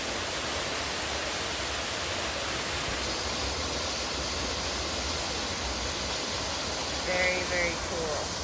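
A waterfall on the Gulf Hagas trail roars as a broad, steady rush of water, loud and constant throughout, with a brief voice near the end.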